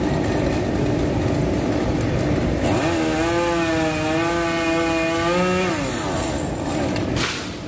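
A chainsaw roars continuously nearby, its pitch dipping and steadying as it cuts through a longan tree trunk, then easing off toward the end.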